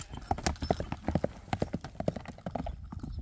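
A piebald horse clip-clops along at a brisk gait, its hooves striking hard ground in quick, uneven beats, close and clear with no talk.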